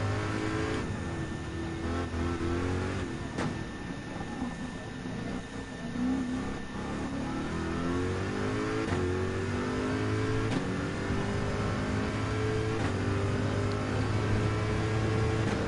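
Supercharged Corvette race car in Gran Turismo 7, its engine holding a steady loud drone with rising and falling revs as it runs at pace, heard alone without talk.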